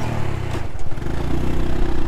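A scooter ridden through Sihanoukville, Cambodia, with gears that shift poorly runs at a steady, loud, close mid-pitched drone, with a brief clattering dip as the engine note shifts.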